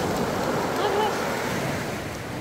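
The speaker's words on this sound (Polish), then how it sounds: "Widzisz, jak nas fala zebrała?" Ocean waves wash continuously onto a beach in Senegal, a dense, roaring surf rush with heavy wind buffeting the microphone throughout.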